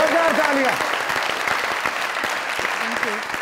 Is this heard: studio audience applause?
yes